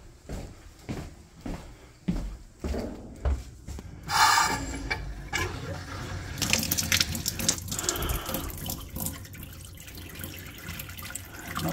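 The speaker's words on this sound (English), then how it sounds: "hot water tanks are probably both filling" Water running as two hot water tanks fill at a lodge water system, steady hiss and gurgle of flow after some irregular knocks and clunks, rising into continuous rushing water with no talking.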